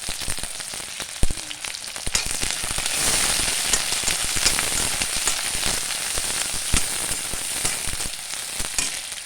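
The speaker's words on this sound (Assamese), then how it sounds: "এতিয়া মই কাটি লোৱা পিঁয়াজখিনি তেলত এড কৰিছোঁ।" Chopped onions fry in hot oil in a pan, a steady crackling sizzle with sharp pops and spatters throughout, close and fairly loud, with no talking.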